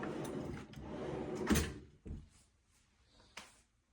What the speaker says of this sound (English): these are soft close drawers